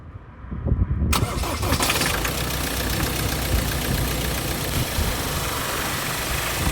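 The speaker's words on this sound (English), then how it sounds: "I'll jump back in the van and we'll get it started" A van's engine cranks and catches about a second in, after a dead alternator was replaced, then settles into a loud, steady idle close by with no talking.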